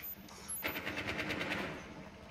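Burst of automatic gunfire in Rainbow Six Siege as a player shoots through a wall, a rapid run of about eight shots inside a second, mid-distance, over game ambience.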